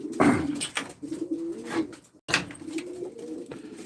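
Pigeons coo softly over low background murmur at a live Turkish pigeon auction with separate pens for males and females, with several overlapping bird calls and a sharp knock partway through.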